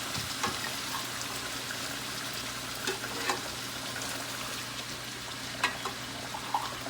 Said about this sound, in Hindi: गोश्त को मुझे माशाल्लाह फ्राई करते हुए इसे 2 से 3 मिनट हो चुके हैं।